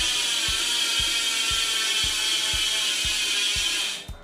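A custom Colony BMX rear hub ratchets as the crank turns, producing evenly spaced sharp clicks about twice per second. A steady whirring hiss runs underneath, and the sound stops abruptly at the end.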